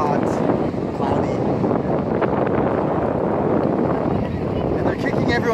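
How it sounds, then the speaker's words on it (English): Gusty wind buffets the microphone on a cloudy beach at the Boryeong Mud Festival in Korea, a steady, loud roar that runs unbroken throughout, with faint voices and crowd murmur mixed in. "It's like very windy, not too hot, cloudy."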